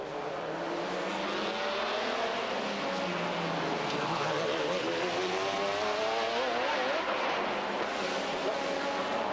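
Porsche GT race car in a 1997 FIA GT round at Helsinki, its engine droning and shifting pitch as it laps the circuit, steady and moderately loud throughout.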